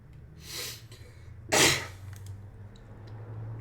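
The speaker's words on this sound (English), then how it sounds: "I'm coughing more because I just woke up" Coughing from a man playing a Magic: The Gathering Standard match, with a couple of harsh, breathy bursts, the louder one in the middle, close up over a low background hum.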